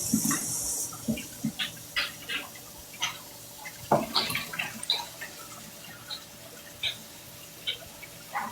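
Yams are rinsed under water, giving irregular splashes, drips and small knocks close by, with brief bursts of running water rather than a steady stream.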